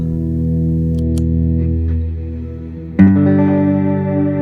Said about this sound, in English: It's a cloud setting that I created on here.